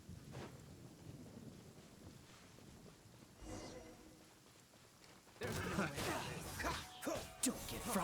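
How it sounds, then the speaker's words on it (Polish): Lightning strikes and thunder in the video game Genshin Impact: a low rumbling wash is followed by a sudden loud crack that breaks into sustained crashing, noisy rumbles with a rain-like hiss, close and heavy. "Co to za pioruny? Uderzają tuż obok mnie."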